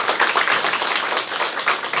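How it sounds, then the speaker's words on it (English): A crowd claps steadily in a room to honor a scholarship recipient at a Hmong community awards event, a dense wash of applause with no voices over it. "Everyone, please give Lisa a round of applause."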